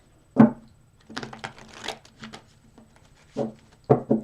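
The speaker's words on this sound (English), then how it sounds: "So I have shuffled these cards really well. I'm going to give them 3 more shuffles." Tarot cards are shuffled by hand as a few short, papery bursts of riffling and tapping, separated by quiet pauses, close and fairly soft.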